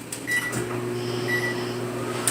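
Microwave oven running while it softens cream cheese for a churro cheesecake, a steady close hum with a low drone and faint beeps layered on top, no talk.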